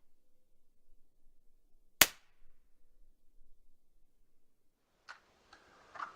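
One sharp, loud unsuppressed gunshot cracks out in near silence, followed a few seconds later by faint rustling and clatter.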